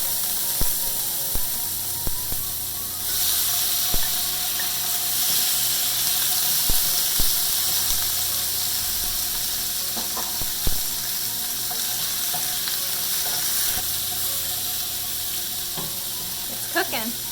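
Thin cod strips fry in a pan with a ginger mixture, giving a steady sizzle broken by scattered clicks and clinks of a utensil against the pan, with no talking.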